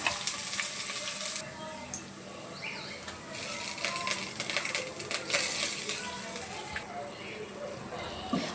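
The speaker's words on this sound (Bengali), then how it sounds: "মশলাটি ভালো করে কষিয়ে নেব।" Masala with ginger paste, garlic paste and ground spices sizzles with fried onions in a pan for a beef and potato dish, a soft steady crackle broken by stirring scrapes, with someone talking over it.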